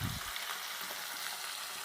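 Hilsa pieces sizzle in hot oil in a pan while being fried for shorshe ilish, a steady soft hiss with a brief low clatter at the start as the fish is turned over.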